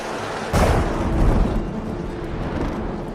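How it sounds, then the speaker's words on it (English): Thunder from a stormy night on a Western frontier ranch cracks suddenly after a quiet moment, then rolls on as a loud, sustained rumble with no voices. "The storm's getting worse."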